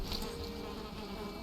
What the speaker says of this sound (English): as long as you hear that noise and that the bees are happy, you should be fine